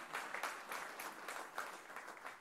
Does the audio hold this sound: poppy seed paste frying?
no